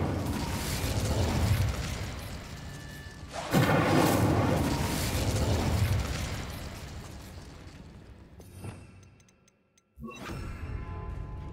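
Incendio fire spell in the video game Hogwarts Legacy, cast as a loud whooshing burst of flame that swells, roars for a few seconds and fades. A second blast then erupts suddenly after a brief quiet gap.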